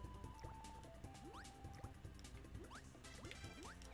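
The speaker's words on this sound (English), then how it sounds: "Kirby falling in the water is literally the most satisfying sound effect, I swear to you." Water effects in the Nintendo 64 game Kirby 64 trickle and drip in quick bubbly, rising blips over soft background music, faint and steady.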